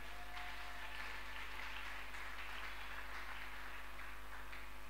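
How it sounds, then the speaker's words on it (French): Faint applause from a church congregation honoring the Lord during a French-language sermon, a soft, steady wash of clapping that lasts throughout without talk. "on acclame pour notre Seigneur"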